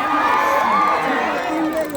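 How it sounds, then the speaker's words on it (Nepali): A concert crowd at the Pokhara festival cheers and shouts with rising whoops and screams. The dense roar stays loud and near throughout, and voices carry over it. "सबैजनाले जोरदार ताली र हल्लाको पाइन्छ"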